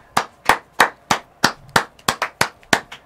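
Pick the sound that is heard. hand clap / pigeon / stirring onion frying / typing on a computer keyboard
hand clap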